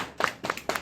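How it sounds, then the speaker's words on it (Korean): A few sharp hand claps from a small audience after a film screening and guest talk at a Korean cinema, three quick separate bursts close to the listener. "너무 잘하셨습니다. 박수 드릴게요."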